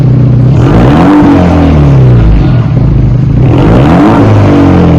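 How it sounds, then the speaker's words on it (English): A 2024 Ford Mustang with its rear muffler deleted revs hard, its exhaust rising and falling in loud, deep rumbling surges close by, with no talk over it. "Let's see what this one sounds like. Well, you can definitely hear it now. It's a rumbling."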